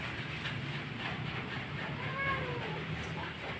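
A stray tomcat meows in short rising calls over a steady background hum and clatter, moderately close.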